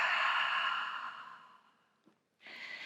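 A deep, drawn-out exhale through the mouth during a Pilates mat class, loud and close at first and fading over about two seconds, followed by a short pause and the start of another breath.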